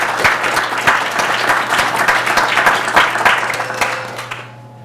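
An audience applauding at the Anton/Lippitt Conference on Urban Affairs, dense sustained clapping from a room full of people that fades away near the end.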